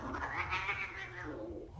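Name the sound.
cats fighting, caterwauling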